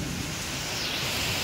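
Steady rain falls over an open field in Jessore, a dense, continuous hiss of drops without pause that stays even and fills the scene throughout.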